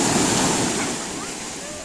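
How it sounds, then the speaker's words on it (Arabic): Sea waves surge onto a summer beach in a loud, close wash of surf that slowly fades over the short clip. "الموجات طالعين شويه"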